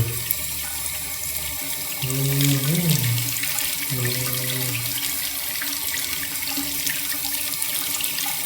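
A tap runs in a steady stream while a hamster is bathed, the water swelling a little louder partway through and flowing on without a break.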